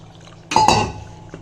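Ground spice paste is tipped from a mixer jar into cooked vegetables for a mixed-vegetable kuzhambu: a brief clink of the jar against the pot, then a soft wet slop that fades.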